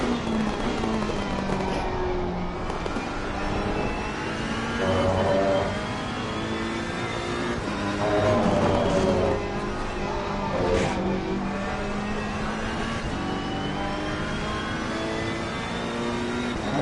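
Ferrari GT race car engine in Assetto Corsa Competizione on PS4 at Donington, a loud continuous close drone whose pitch climbs and dips through gear changes and corners, with a brief surge midway.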